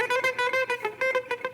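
Quick picked guitar notes with left and right hands out of sync, in a loose, uneven rhythm, with attacks that smear and stutter rather than landing cleanly, played close and alone.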